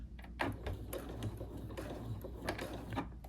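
A domestic sewing machine backstitching through a cotton tote bag, a steady mechanical whir with repeated needle clacks and short bursts of stitching, close and moderately quiet.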